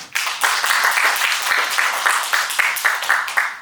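Steady applause from an audience, many hands clapping continuously and fairly loud throughout, with no talking.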